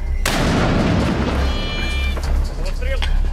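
A single loud, booming mortar launch blast on a front line kicks off the clip, followed by a long rumbling echo and some background noise.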